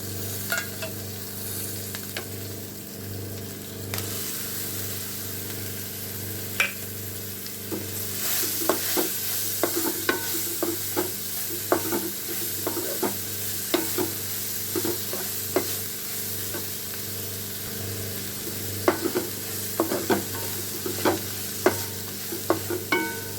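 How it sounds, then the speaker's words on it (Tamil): Lentils (dal) fry and are stirred in a pan while making ridge gourd dal, giving a steady close sizzle broken by repeated scraping and clinking stir strokes, with no talk. "பருப்பு கொஞ்சம் நல்லா செவக்கட்டும் பாருங்கள் இப்போ பருப்பெல்லாம் நல்லா செவந்தாச்சு"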